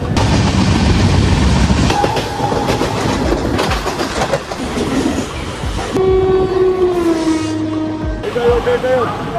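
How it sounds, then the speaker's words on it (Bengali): Train ride toward Howrah in India: a loud, continuous rumble of rolling rail wagons fills the clip, with a sustained horn blast near the end and some faint voices mixed in. "আর এই ট্রেনটা করেই যাচ্ছি।"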